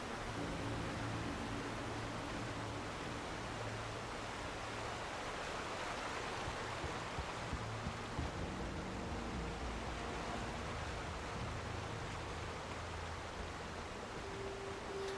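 River water flowing in the video game Alan Wake, a steady, soft, even rush of water with no breaks and no voices.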